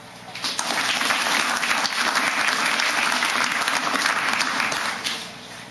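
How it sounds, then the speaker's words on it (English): Sustained audience applause fills a hall at the 2011 mayoral debate in Defiance, Ohio, swelling quickly after a brief start, holding steady and loud for several seconds, then tapering off at the end. "So please give a round of applause for those individuals."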